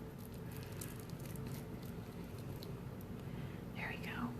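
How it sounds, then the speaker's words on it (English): Thick navy blue chalk paste is stirred, giving soft, faint wet squishing and scraping in a quiet room, with a brief higher squeak near the end. "You can also just kind of give it a little stir."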